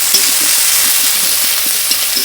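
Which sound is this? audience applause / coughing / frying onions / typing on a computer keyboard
frying onions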